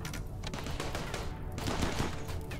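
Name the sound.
turrets exploding amid fire in the video game Rimworld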